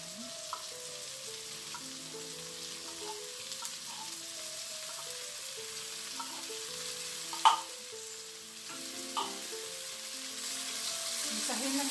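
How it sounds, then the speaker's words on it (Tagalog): Corned beef frying in a pan with potato, a steady continuous sizzle with occasional stirring clinks and scrapes, close and moderately loud, no voices. "idagdag natin yung ating corned beef."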